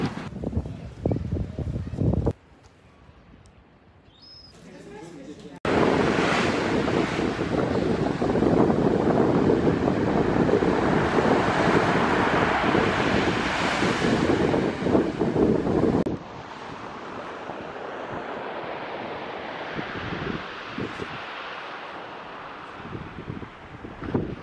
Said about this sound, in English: Walking down there where the waves are.